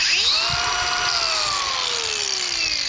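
A Ridgid cordless grinder whines at high speed, its motor pitch sweeping up then slowly sagging as it runs steadily and close for a few seconds.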